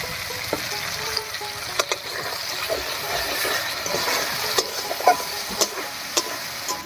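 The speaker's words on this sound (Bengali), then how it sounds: "টমেটো দিয়েও খুব ভালো করে কষিয়ে নিয়েছি" Tomato paste cooking down with masala in hot oil, a dense continuous sizzle with repeated sharp spatula taps and scrapes against the pan, close and steady.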